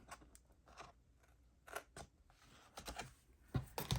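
Quiet, close scissor snips cut paper stickers in short irregular bursts, with soft crisp cuts and sticky rustles from adhesive-coated blades between them.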